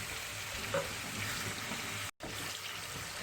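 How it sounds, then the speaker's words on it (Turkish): Fatty ground beef from rib mince sizzles and crackles steadily in a pan, a continuous close hiss of frying with a brief dropout near the end. "kıymamız kavrulurken"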